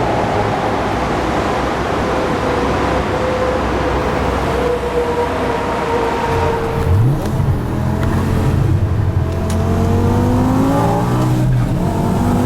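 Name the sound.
Infinitas Hurricane RR 800 HP bi-kompressor V10 car accelerating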